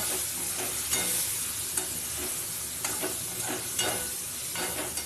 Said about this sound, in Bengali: এবার ওইটা দিয়ে ভালো করে কষিয়ে নেব